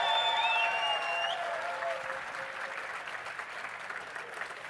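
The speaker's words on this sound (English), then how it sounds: "please give a big round of applause for my volunteers" Loud audience applause at a #WalkAway fifth-anniversary rally in West Palm Beach, a dense wash of clapping that starts strong and slowly fades over a few seconds, with a few faint tonal whistles at the start.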